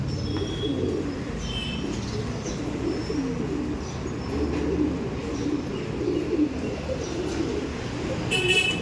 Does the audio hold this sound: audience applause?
no